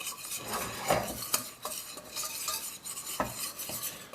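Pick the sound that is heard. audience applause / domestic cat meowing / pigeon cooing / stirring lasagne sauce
stirring lasagne sauce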